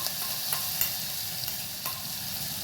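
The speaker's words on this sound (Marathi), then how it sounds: "ते वाटण आपल्याला 1 ते 2 मिनिटं परतून घ्यायचं आहे" Ground masala paste with curry leaves fries in a hot pan, a continuous loud sizzle broken by a few scraping stirs of a spoon, with no voices.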